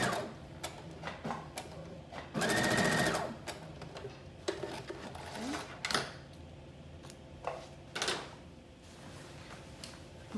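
A home sewing machine runs a seam, with a short loud burst of fast stitching set among scattered ticks, clicks and small handling knocks nearby.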